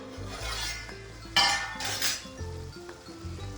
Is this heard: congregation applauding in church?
no